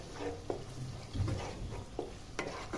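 A garlic and coriander paste with chili powder is stirred into hot oil for an egg palya, with a quiet low sizzle and several distinct spoon scrapes and taps against the pan.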